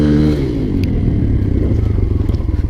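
Dirt bike engine revving loudly up close during a wheelie attempt in snow, a continuous rough, throbbing roar that climbs in pitch and turns choppier toward the end.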